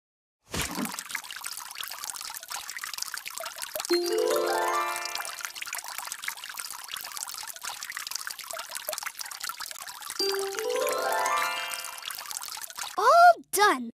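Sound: water pouring while watering plants

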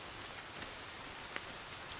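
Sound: rain in Sons of the Forest video game

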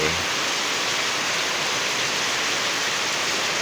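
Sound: heavy morning rain

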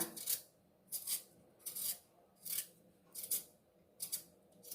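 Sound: peeling potatoes for potato bajji

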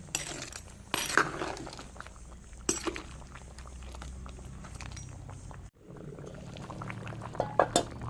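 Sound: curry with pumpkin and crab boiling in a pot

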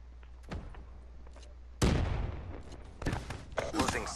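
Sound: shotgun fire in the video game Call of Duty: Black Ops 3

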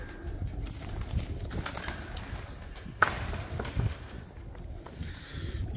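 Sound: pigeons cooing

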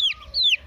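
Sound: nervous chick peeping

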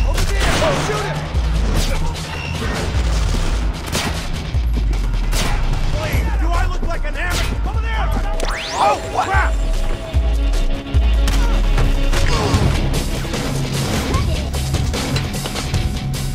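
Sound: gunfire in a video game shootout

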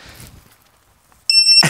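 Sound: ViFly Finder drone beeper sounding

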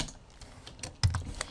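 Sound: typing on a computer keyboard

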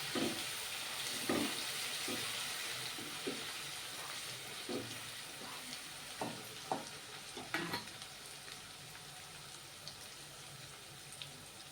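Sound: ginger, chili and garlic paste frying in a pan

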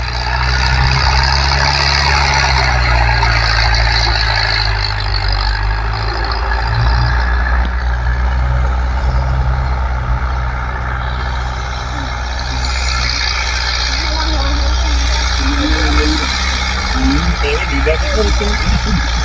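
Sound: Kartar 5936 tractor engine running

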